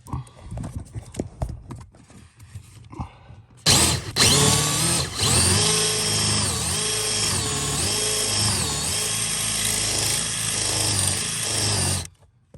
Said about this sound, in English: I got the hole drilled